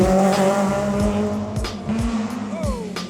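BMW rally car roaring past on a gravel stage at the Rallye du Quercy, loud engine with gear changes and tyre noise, heard from the roadside with a spectator's voice briefly over it.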